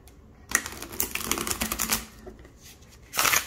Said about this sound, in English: I can riffle shuffle this deck.